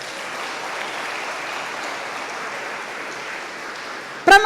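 Steady, fairly quiet applause from a church congregation fills the space evenly, a diffuse wash of many hands clapping that carries on throughout, ending with a brief louder burst at the very end.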